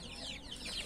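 Several laying hens cluck and squawk busily in a coop, a dense, continuous flock chatter with overlapping calls close to the microphone and one sharper cackle at the end.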